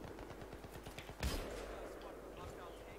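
Rapid automatic gunfire in a video game, a fast run of close sharp shots followed by a louder blast, with a voice speaking over it.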